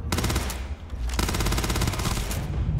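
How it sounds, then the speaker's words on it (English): Sustained automatic gunfire from a weapon being emptied in the Starfield video game, a loud, continuous rattling burst of rapid shots with a brief dip near one second before the firing resumes. "Just unload all of the bullets."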